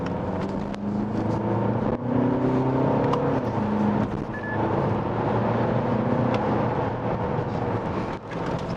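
Steady road and engine noise inside a Volkswagen Arteon lapping a winding road with its adaptive dampers set to the softest comfort mode, a continuous low hum with faint tyre roar and occasional small knocks, no talking.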